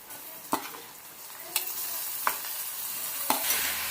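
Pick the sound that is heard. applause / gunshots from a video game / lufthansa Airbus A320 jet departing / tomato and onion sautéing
tomato and onion sautéing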